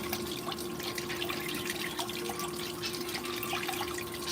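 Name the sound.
water running through a blue bowl gold concentrator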